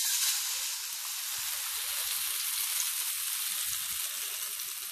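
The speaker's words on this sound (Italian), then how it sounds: "sentite come sfrigola?" Zucchini schiacciata batter sizzles in a hot oiled baking pan fresh from the oven, a steady close crackling fry with faint pops underneath, no voices.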